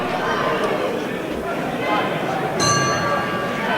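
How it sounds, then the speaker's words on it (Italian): A boxing ring gong sounds once to end a round at an under-17 50 kg amateur bout, a bright ringing tone that rises late over constant crowd chatter and commentary in a noisy arena. "E suona adesso il gong"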